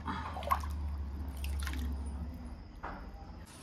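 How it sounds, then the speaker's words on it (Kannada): Tap water pours into a fish tank with a steady low gurgle and splashing drips, fairly close and quiet, fading near the end. "ಇವಾಗ ಇದಕ್ಕೆ ನಾರ್ಮಲ್ ವಾಟರ್ ಹಾಕೋದು, ಟ್ಯಾಪ್ ವಾಟರ್."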